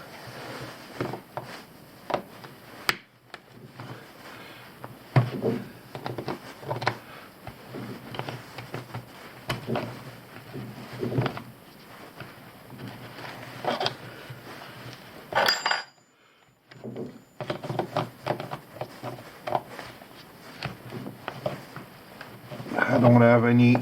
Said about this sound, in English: I don't have any special tool to cut open oil filter, so that's why I'm using snips.